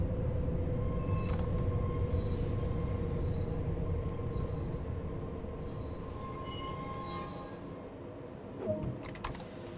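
A passenger electric multiple-unit train in Train Sim World 2 on the Rhein-Ruhr-Express RE 1 between Köln and Aachen rolls and brakes to a stop, a steady low rumble with faint brake squeals and clicks, slowly easing off.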